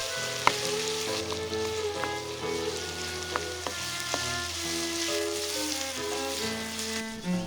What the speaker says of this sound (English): When the oil is hot, put the onion and the garlic. Stir for 1 minute. Add the ground pork and briefly stir.